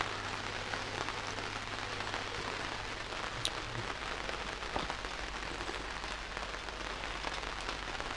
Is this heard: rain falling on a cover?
yes